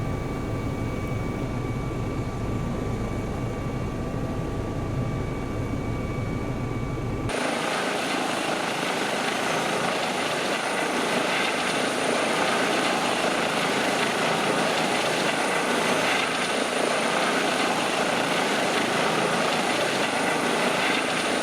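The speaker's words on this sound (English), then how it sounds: "let's do our little spin around the block in the Rotosim EC135. This time with takeoff power, so we are inside the yellow arc" Eurocopter EC135 helicopter in a flight simulator at takeoff power: a steady, loud turbine and rotor roar fills the whole clip, and about seven seconds in it jumps sharply brighter and stronger as power comes up, with no talking.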